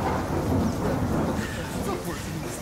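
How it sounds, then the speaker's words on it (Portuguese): Steady rain falls with a low rumble of thunder beneath it, a dense, close wash of noise lasting a few seconds without a break. "começou a chover"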